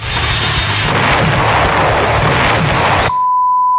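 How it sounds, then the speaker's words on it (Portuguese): Cartoonish explosion sound effect from a child's doll play, a dense roaring burst of booms and rumble filling about three seconds, loud and continuous, then cutting off to a brief steady beep tone. "Sempre tinha que ter uma explosão."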